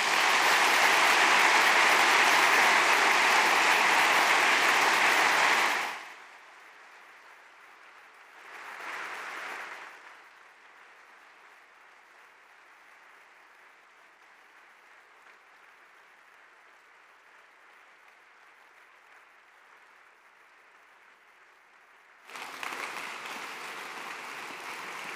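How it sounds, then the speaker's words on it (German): Loud, dense applause from a lecture audience fills the first several seconds, then drops to near silence with a brief swell, before clapping resumes strongly near the end. "weil dieser Applaus Herrn Edenhofer natürlich gehört"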